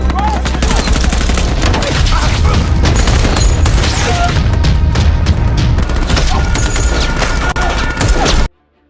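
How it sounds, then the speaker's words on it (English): Sustained heavy gunfire from a firefight between soldiers and terrorists at a house where the terrorists arrive by car, loud and nearly continuous with rapid bursts and booms, cutting off abruptly at the end. "They spot terrorists arriving in a car and start shooting. After a brief firefight, the 2 soldiers easily kill them."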